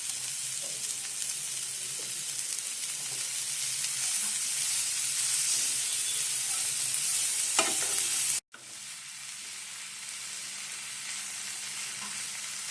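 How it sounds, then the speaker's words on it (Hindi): Fenugreek leaves frying and being stirred in a pan, with a steady sizzle and occasional scraping strokes throughout, briefly cutting out before the sizzle resumes. "मेथी की सब्जी डालेंगे"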